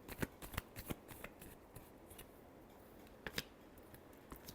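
A deck of tarot cards is shuffled in a few quick riffling bursts, soft and close, with a short pause before a final brief flurry.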